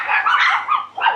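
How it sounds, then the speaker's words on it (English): Several dogs bark excitedly at goats on a hillside near Da Lat, Vietnam, a run of overlapping high yelping barks with no pause, close and loud with no voices. "All the dogs are barking at them both."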